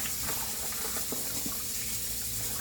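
Tap water runs steadily into a sink as pig feet and chicken gizzards are rinsed in a home kitchen, a continuous close splashing hiss with no talking.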